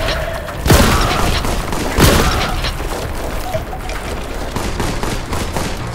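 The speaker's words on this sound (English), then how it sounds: "Fantastic shotgun!" Two loud, booming shotgun blasts about a second apart from Warhammer 40,000: Boltgun, each with a long decaying tail, over a constant dense game soundscape of action and ambience.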